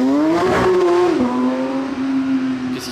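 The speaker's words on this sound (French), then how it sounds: "Ah, GT3 Touring." A Porsche GT3 Touring passes on a Monaco street, its engine note a loud, sustained tone that rises and then eases as the car goes by close up, with no talk over it.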